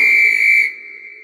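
A guard's whistle shrills as a bright, steady tone that cuts off sharply after about two-thirds of a second, leaving a faint lingering ring in a Subway Surfers scene.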